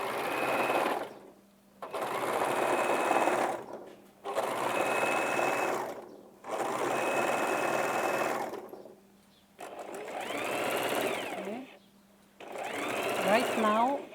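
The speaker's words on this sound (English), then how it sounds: "Okay, right now I'm gonna overlock the edge" An overlock sewing machine finishes the raw edge of a shirt sleeve, running in steady close-up bursts of about two seconds with short pauses between them, loud and mechanical.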